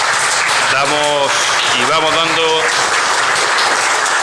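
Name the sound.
audience applause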